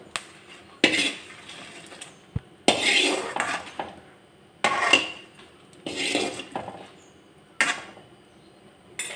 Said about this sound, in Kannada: ತೆಗಿತೀನಿ ನಾನು ಒಂದು ಪ್ಲೇಟ್ಗೆ ಇದನ್ನು